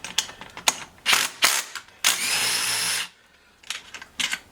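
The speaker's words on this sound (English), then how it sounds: "Note to self, have the gun in reverse before starting to remove bolts." Impact gun working bolts on a Craftsman 2.2 36cc chainsaw during teardown, several short rattling bursts followed by one long sustained hammering run of about a second, then a brief pause and more quick bursts.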